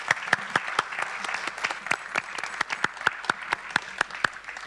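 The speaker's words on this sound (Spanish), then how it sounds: "Les pedimos un fuerte aplauso y damos por finalizado." An audience at a seminar session on agriculture gives a round of applause, a dense crackle of many hands clapping steadily for several seconds at moderate loudness in an indoor hall.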